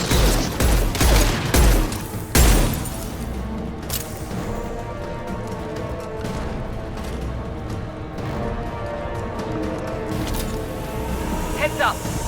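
Rapid sci-fi gunfire in Mass Effect 2, loud dense volleys early on that settle into a continuous combat din with scattered cracks, under game voices and battle noise.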